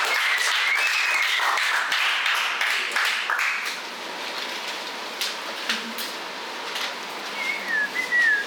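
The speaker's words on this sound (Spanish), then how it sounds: "Aplausos para Juan." Applause and whistling from an audience at a freestyle rap battle, a loud burst of clapping with sharp whistles up front, fading to scattered claps and a few trailing whistles near the end.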